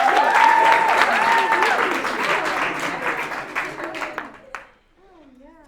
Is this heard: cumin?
no